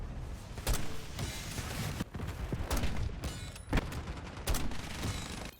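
Hellstorm missile strikes in a first-person shooter video game land as a cluster of booming explosions, several sharp blasts and rumbling bursts spread over a few seconds, loud and dense, with no talking.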